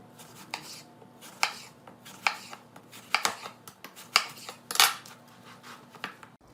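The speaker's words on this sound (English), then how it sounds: "I'm just going to cut some slices that we can throw on the grill" A knife slices through seedless watermelon on a cutting board, making about eight crisp, separate chopping thuds at an irregular pace, close and fairly quiet, with no talking.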